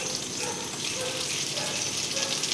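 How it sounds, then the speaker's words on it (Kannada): Greens, tomato and cumin sauté in hot oil for Ulikal soppu palya, a steady wet sizzle and hiss running evenly without a break. "ಇದನ್ನ ಚೆನ್ನಾಗಿ ಎಣ್ಣೆಯಲ್ಲಿ ಬಾಡಿಸ್ಕೋಬೇಕು"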